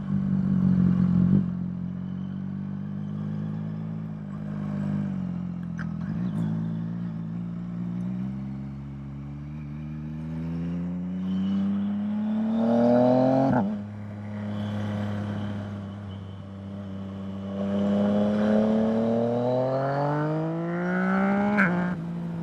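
A Yamaha MT-09 motorcycle riding through an intersection, its engine note rising and falling through several gear changes with a brief dip between shifts, steady and close with wind noise throughout.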